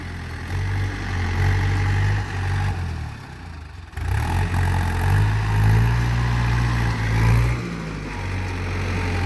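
A heavy bulldozer engine idles and revs while pushing piles of soil, a steady low rumble with periodic surges as the machine works, close and continuous with no talk.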